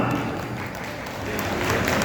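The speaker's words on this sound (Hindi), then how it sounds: "बस तालियां आए तो भरपूर आए, वरना आए ना।" Audience applause at a kavi sammelan poetry recital at a fair, a dense continuous wash of clapping heard over a low hum, with some voices mixed in.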